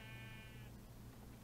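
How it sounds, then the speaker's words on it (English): A sheep bleats in Minecraft, a short clear harmonic bleat in the first half-second over steady low game ambience, then the ambience continues alone. "Please. There's sheep."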